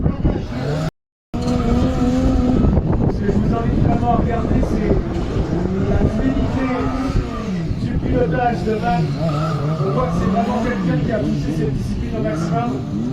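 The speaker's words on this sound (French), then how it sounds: "On va commencer par chauffer les pneus" A race car warms its tires from a standing start with a loud, continuous engine roar and squealing tires that rise and fall for over ten seconds, broken by a brief silent gap near the start, while someone talks throughout.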